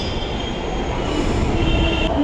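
Delhi Metro train running, a steady loud rumble of wheels on rails with a faint high squeal, heard from inside the carriage without pause.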